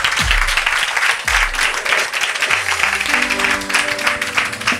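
A worship congregation at a Sunday church service claps loudly, the applause dense and sustained for several seconds, with faint low sustained tones beneath.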